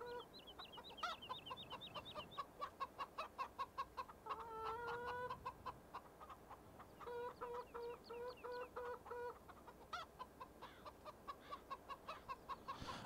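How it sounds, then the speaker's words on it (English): Chickens clucking in the video game Farming Simulator 17, with repeated rhythmic bursts of clucks and short squawks from several birds, fairly close and quiet, with no talk. "chickens are the easiest of the four types of animals that appear in Farming Simulator 17"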